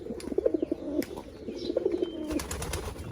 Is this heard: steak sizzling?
no